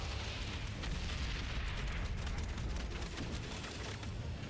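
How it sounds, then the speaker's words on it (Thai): Field artillery explosions in the video game Valiant Hearts form a continuous, loud rumbling barrage of booms and bursts with no pause. "ปืนใหญ่สนามจูโจมอีกแล้ว"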